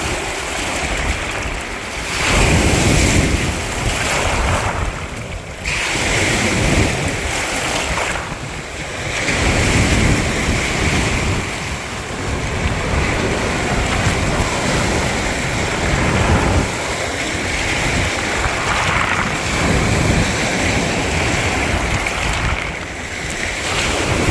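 Continuous rushing water with surging, wave-like swells and steady broadband hiss, no voices: Lake Michigan waves running over shoreline rocks.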